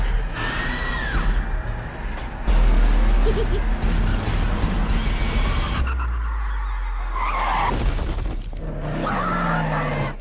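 Hard braking in a movie trailer: tires skid and squeal loudly across several seconds over a cinematic music and effects bed, with a heavy impact-like boom partway through and shouting voices near the end.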